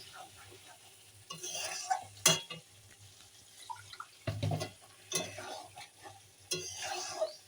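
Food stirred in a cooking pan with a faint sizzle and splashes of water, the spoon scraping and clattering in irregular bursts close by, with no one talking.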